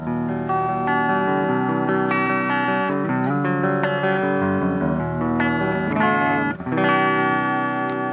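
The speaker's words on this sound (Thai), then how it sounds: "มาลองฟังเสียงคลีนกันก่อนนะค" A clean electric guitar rings through a Peavey Studio Pro 110 amplifier with lush spring reverb, playing sustained chords and melodic notes steadily, with no talking.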